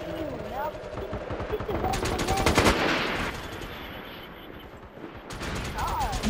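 Rapid bursts of automatic gunfire crackle nonstop in the online shooter MAG, with a heavier volley in the middle, while a player talks over the shooting.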